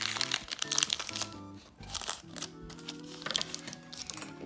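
A paper baking cup is folded by hand for craft fish scales, producing close, irregular crinkling and crunching bursts with brief pauses and no talking.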